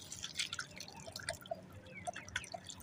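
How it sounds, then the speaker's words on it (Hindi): Quiet trickle and scattered drips of water poured over someone's hands for washing, close by with no talking. "तो इनके हाथ मैंने धुलवा दिए"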